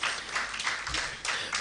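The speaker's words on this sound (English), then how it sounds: "Please, one more time, a round of applause" Audience at a plastics-industry launch event in Nigeria gives a round of applause, a brief burst of fairly close, even clapping with a few pulses of intensity.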